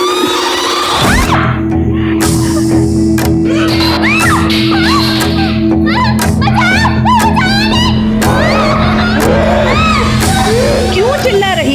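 A woman screams and wails loudly and without break over a dense, noisy indoor scene in a television crime drama, with other voices shouting and talking mixed in.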